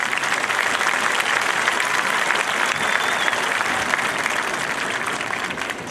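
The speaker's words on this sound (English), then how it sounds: "Can we get a round of applause for that?" A graduation audience at a 2019 Lincoln High School ceremony applauds: dense, steady clapping from a large crowd that fills the whole stretch at an even, loud level without pause.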